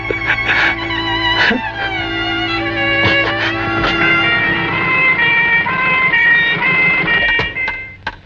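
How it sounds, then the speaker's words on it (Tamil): Ambulance siren wailing loudly and continuously for several seconds, close by with a steady rising and falling tone and some traffic noise underneath. "சீக்கிரமா ஒரு ஆம்புலன்ஸ் ஏற்பாடு பண்ணுங்க."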